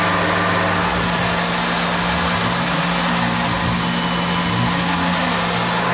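A CNC machine runs a cut on a thin part, giving a loud, steady mechanical whir with a low constant hum and broadband noise throughout, with no voices.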